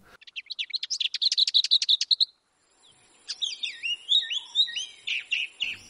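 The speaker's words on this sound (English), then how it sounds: "The lesser white-throat is a small migratory bird." A lesser whitethroat sings a fast, dry rattling trill, then after a brief pause a higher, scratchy warbling phrase, clear and close with no other sounds.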